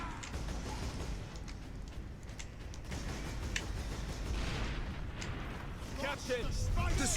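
Battle noise from Warhammer 40k: Space Marine: heavy, booming weapon fire and rumbling blasts that run continuously, with voices mixed into the combat.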